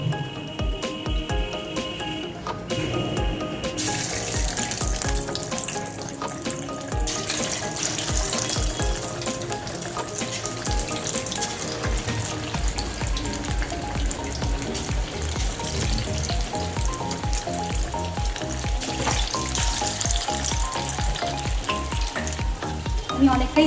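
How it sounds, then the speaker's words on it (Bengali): Pakoras frying in hot oil give a steady, dense sizzle and crackle that stays close and even throughout, with occasional faint stirring or clinks and no one speaking. "তেল কিন্তু গরম হয়ে গেছে। এবার আমি পকোড়াগুলো ছেড়ে দেবো।"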